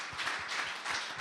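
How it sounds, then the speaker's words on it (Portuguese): Congregation in a church clapping together in steady, sustained applause at close range, continuous through the short span with no talk over it. "Dê uma salva de palmas a Jesus"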